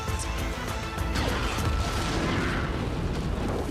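Mines blow up and a cave caves in within the Star Wars: The Bad Batch episode "The Outpost", a dense, continuous roar of crashing booms and rumbling debris filling the whole stretch with no talk.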